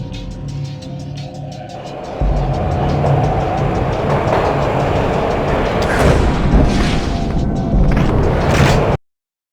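A train ride in the video game Max Payne: a loud, steady rumbling rail clatter that swells after a couple of seconds and continues unbroken, then cuts off abruptly at the end.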